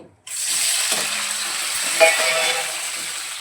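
Paneer and cashews dropped into a hot pan on high gas, a sudden loud hiss that settles into a steady close sizzle with a brief clink, no speech.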